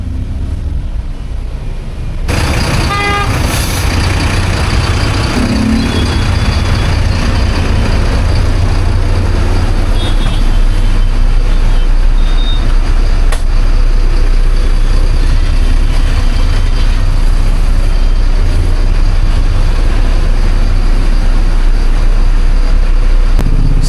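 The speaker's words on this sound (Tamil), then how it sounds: "இங்கே கோயம்பேட்டில் நல்ல டிராஃபிக்காக இருக்குங்க." Heavy, steady traffic roar at Koyambedu in Chennai, heard from inside a new BharatBenz Glider BS6 coach: continuous loud engine rumble and road noise with no voices.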